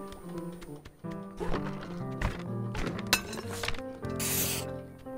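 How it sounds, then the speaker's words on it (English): A vase smashing in the video game Untitled Goose Game, with clinks and thunks leading up to a sharp crash near three seconds and a bright shattering burst just after four seconds, over light game music. "He broke the vase."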